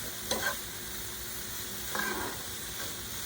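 A spoon scrapes and stirs through a softly sizzling pan as two tablespoons of garlic go into caramel-coloured cooking for Cajun chicken pasta, with a couple of brief stirring strokes over a low, constant fry.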